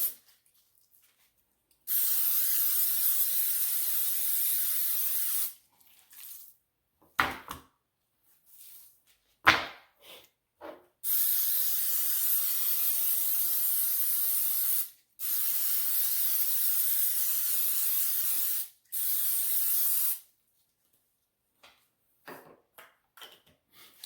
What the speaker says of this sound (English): I just spray the ribs with olive oil